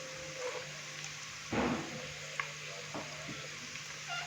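Sliced carrots and cabbage frying in a pan for hakka noodles: a steady close sizzle with a louder burst as vegetables go in, plus a few faint clinks of stirring, no talk.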